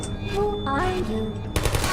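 Rapid automatic gunfire in the video game Portal, aimed at the player, bursts in near and loud against tonal game sounds and electronic chimes, the burst-like crackle strongest at the end.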